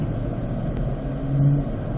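A C8 Corvette cruising at a steady 35 mph on a driving school course, giving a constant close rumble of engine and road noise with a slight swell near the end.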